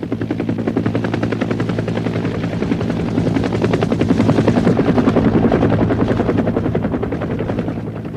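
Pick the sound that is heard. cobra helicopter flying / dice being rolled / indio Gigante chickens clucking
cobra helicopter flying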